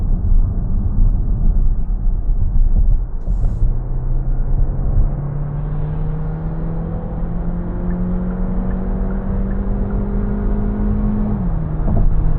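A 2026 Kia Sportage with 180 HP and a 7-speed dual-clutch 4WD speeds up on a night drive, its engine note rising steadily in pitch over road and tyre roar, then easing off near the end, with no talk.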